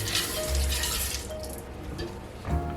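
A peeled boiled egg rinsed under a running kitchen tap, a steady close splash of water with small changes in flow, no talking.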